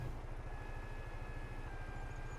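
Tractor engine idling in Farming Simulator 22, a steady low rhythmic throb with a faint hum, quiet and continuous with no talk.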